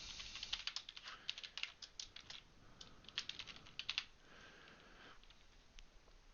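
Fast, irregular keyboard typing on a computer keyboard while a project name is entered, a quick cluster of close, crisp key clicks with brief pauses, ending in a couple of isolated taps; no voices.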